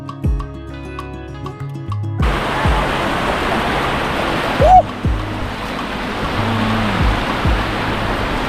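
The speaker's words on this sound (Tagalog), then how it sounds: "Grabe! Ang lakas ng pwersa ng tubig!" Strong river current rushing loudly and steadily, a dense broadband roar that continues without a break from about two seconds to the end, after a quieter start.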